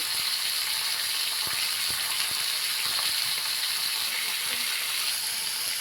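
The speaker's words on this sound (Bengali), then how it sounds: "মাছটা ভাজা হচ্ছে" Pomfret fish fry in a pan with a continuous, even hiss and sizzle, and scattered faint pops and crackles break through the steady noise.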